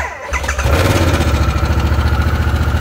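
Brand-new Harley-Davidson Sportster S motorcycle fired up for its first start, cranking briefly before settling into a loud, close, steadily pulsing idle.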